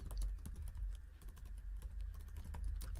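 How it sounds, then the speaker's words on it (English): Close, quiet clicking of keys on a computer keyboard, an irregular stream of soft taps over a low hum with no talking. "And now they can start typing in their problem."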